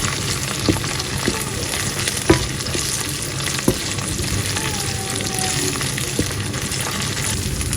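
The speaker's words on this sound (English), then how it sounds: "So I'm just gonna fry this for about maybe 5 to 10 minutes, and then I'll be putting it in the beans." Chopped tomatoes frying in a pan make a loud, continuous sizzle with occasional sharp clicks and pops from stirring.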